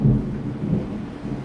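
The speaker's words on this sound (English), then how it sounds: "That was the thunder that I was just talking about." Low rumbling thunder rolls through steady heavy rain, a dull, sustained boom with no voices over it.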